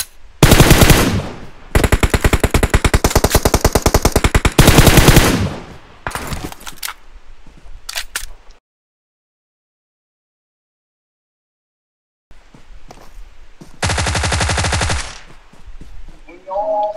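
Gunfire in the video game PUBG: long rapid bursts of automatic fire, loud and close, then scattered single shots, a stretch of silence, and another sustained burst near the end.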